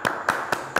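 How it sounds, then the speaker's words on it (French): Applause after a project presentation, heard as four separate sharp claps spaced evenly about a quarter second apart, fairly close and moderately loud, with no talking in between. "On a le droit d'applaudir."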